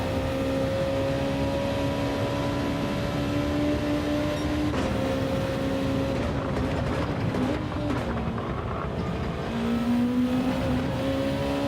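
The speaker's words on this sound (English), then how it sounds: "Do love these GR2 cars." GR2 race cars in the Gran Turismo 7 video game drone steadily during an online lobby race, engine tones rising and falling through gear changes, loud and continuous with no voices.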